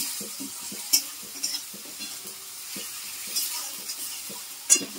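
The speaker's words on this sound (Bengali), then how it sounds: "রসুন পেঁয়াজটা সাঁতলে নিচ্ছি ভালো করে, এর তেল ছেড়ে গেছে।" Garlic and onion sauté in oil with ginger, garlic and green chilli paste, a steady low sizzle broken by a spatula scraping and stirring the pan, with a few sharp metallic clinks near the start and end.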